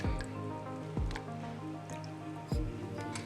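Banana pieces drop into a pot of boiling dumplings and potatoes for a Jamaican breakfast, giving three wet plops over steady bubbling and simmering liquid, close and moderately loud.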